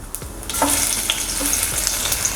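Urad dal, cumin, mustard seeds and garlic fry in hot oil, giving a steady loud sizzle with a few sharp pops and crackles and a brief stirring scrape, close by with no voices.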